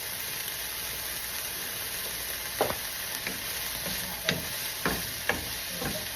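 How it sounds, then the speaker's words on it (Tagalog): Ipon, small fish coated in cornstarch, frying in a pan with a dense continuous sizzle and hiss, broken by a few soft utensil knocks, close and steady. "Yung ipon, ipiprito na lang natin ito."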